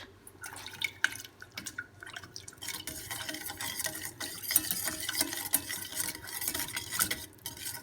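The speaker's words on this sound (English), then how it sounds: "And then you start mixing with the whisk." A whisk stirs salt, sugar and water in a pan, making brisk, uneven scraping and sloshing with rapid clinks against the metal, constant and close.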